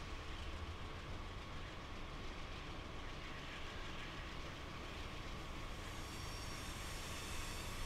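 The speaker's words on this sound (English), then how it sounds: "Oh, there's our train. I hear the squealing." A Metro North train in Train Simulator 2017 arriving into a station, with a steady, dense rumble of rolling wheels throughout and a faint high squeal building near the end, no talking.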